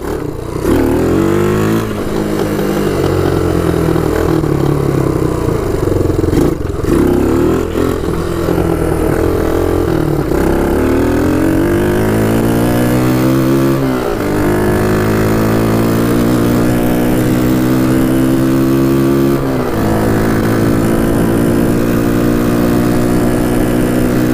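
A Kawasaki KLT 250 three-wheeler engine runs loud and close while being ridden, its pitch climbing repeatedly through the gears in long rising sweeps with brief drops between shifts, steady and continuous throughout.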